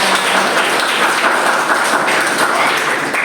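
Steady, dense applause from a classroom audience during a microteaching lesson on handling everyday emergencies, loud and continuous for the full few seconds with no voices on top.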